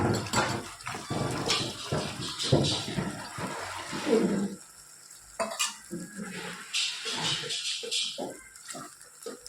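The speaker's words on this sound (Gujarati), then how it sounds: "પાણી નાખી દઈએ." Water poured into a cooking pot of yogurt-based curry for dudhi kofta on a gas stove, with stirring and sizzling clatter, a pause, then more pouring and scraping close by.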